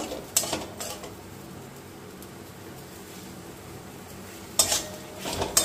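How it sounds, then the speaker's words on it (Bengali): Chicken with bell pepper and coriander is stirred in a pan over raised heat, the utensil scraping and clinking against the metal in short bursts at the start and end over a steady, soft background sizzle. "এখন একটু বাড়িয়ে দিলাম, একটু নাড়ছি।"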